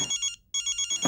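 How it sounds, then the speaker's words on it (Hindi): A phone rings nearby with rapid warbling electronic bursts, pausing briefly before the pattern resumes, loud and unaccompanied by voices. "मेरा फोन बज रहा है"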